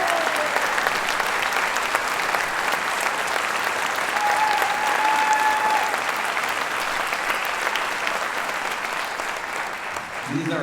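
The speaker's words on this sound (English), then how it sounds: "Give him another round of applause." An audience at a Southwest Washington Wind Symphony concert gives a conductor a long, loud round of applause, dense clapping sustained for about ten seconds with a brief voice or tone heard faintly within it.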